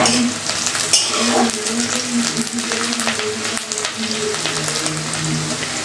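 Green chilies fry in a pan with a steady, crackling sizzle, spattering oil and light scraping from stirring running throughout at close range.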